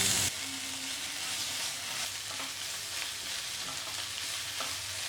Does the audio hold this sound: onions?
yes